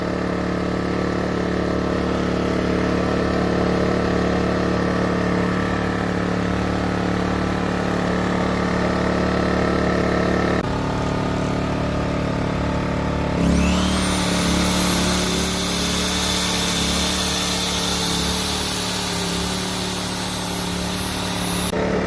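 A Genergy Limited 1500i petrol inverter generator runs with a steady close hum that shifts partway through, then rises in pitch and load to a louder, busier drone with a faint whine, continuous and without talk.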